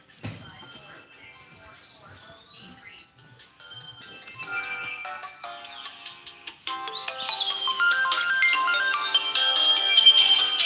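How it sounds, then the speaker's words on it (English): A mobile phone ringtone plays a bright, rising electronic melody that starts faint and grows steadily louder over several seconds, with light handling noises early on. "That's my phone ringing, and that's the alarm."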